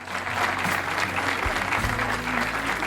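A congress audience at the closing session of the twenty-first AIEPA education congress breaks into sustained, dense applause that holds steady and loud from start to finish.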